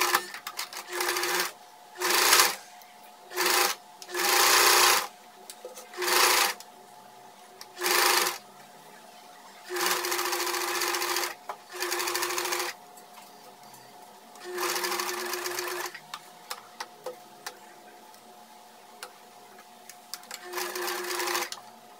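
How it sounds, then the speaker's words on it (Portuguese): A domestic sewing machine stitches a blouse facing at the neckline, running in about ten short and long bursts with pauses between, close and clear with no talking. "a gente vai costurar esse revel e rebater ele pra ele ficar certinho"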